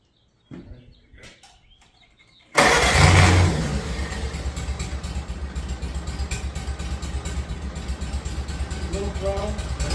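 A 1951 Farmall Cub tractor engine cranks over and catches with a sudden loud burst, then settles into a steady rhythmic idle chug, with people talking quietly before it fires.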